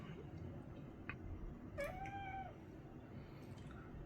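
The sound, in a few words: cat meowing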